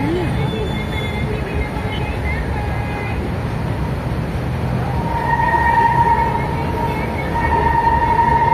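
An LRT light rail train rumbles past in Manila with a steady low roar and faint metallic squeals, mixed with busy street noise.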